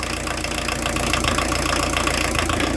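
VW T3 diesel engine with retarded injection pump timing idles close by, a rough, knocking clatter that runs continuously and evenly with no talk over it.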